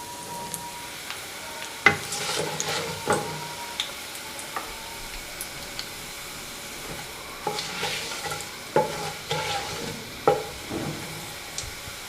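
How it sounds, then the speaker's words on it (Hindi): Nigella and fenugreek seeds frying in oil for potato bharta, a soft, steady sizzle with scattered spoon taps and stirring scrapes coming in bursts. "कलौंजी और ये मेथी दाना। थोड़ा सा इसको फ्राई करेंगे"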